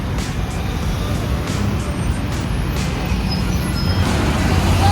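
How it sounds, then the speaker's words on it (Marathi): Heavy roadside traffic at a stop where people wait for a state transport bus to Satara, with buses and cars rumbling past in a continuous loud low drone, a faint air-brake hiss and high whine on top. "गाड्यांचा अक्षरशः पूर आलेला आहे पूर"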